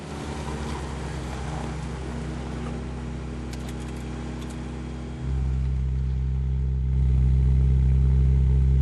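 A small car engine runs at a high idle, a steady close drone that jumps louder and deeper partway through and then holds, with no talking.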